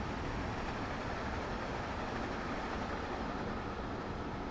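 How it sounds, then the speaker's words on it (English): A train passing the opposite way on the Boston line in Train Sim World 2, a dense steady rushing roar of wheels and air, constant and fairly loud throughout. "It's quite busy. Another train coming the other way."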